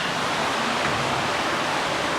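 Water rushes and flows somewhere below inside a cool cave in Gangwon-do, South Korea. It makes a constant, even, hissing roar that stays steady throughout, with no voices over it.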